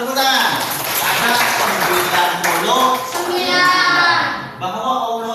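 Children clap together in a classroom, a burst of scattered hand claps mixed with kids' voices and chatter, fairly close and lively, tapering near the end.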